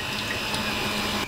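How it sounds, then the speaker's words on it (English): Running tap water washing raspberries in a kitchen sink, a steady close rushing splash throughout, with no talking. "wash your raspberries using water"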